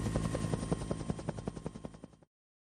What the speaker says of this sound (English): They make a chopping sound, says Mama.